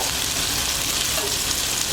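Tomatoes frying in a pan for a lamb liver roast, a dense continuous sizzle close up while being stirred, with a faint scrape near the end.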